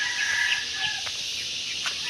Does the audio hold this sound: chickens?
yes